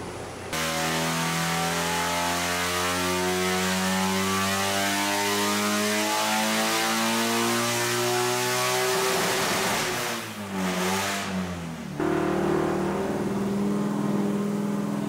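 A turbocharged two-cylinder engine in a land speed car revs steadily and loudly at close range, with a strong harmonic drone that dips and wavers mid-way before picking back up, no talk.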